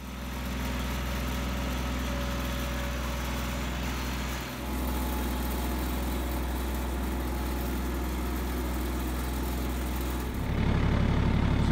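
A tractor engine runs steadily beside a hay dolly trailer, a constant low mechanical drone close by that barely changes, with a brief dip partway and a harsher shift near the end.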